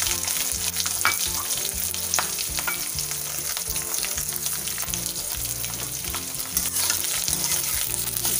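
Onions fry hard in oil in a kadhai with curry leaves, making a loud, dense, continuous sizzle with crackling pops and the occasional clink of stirring close by.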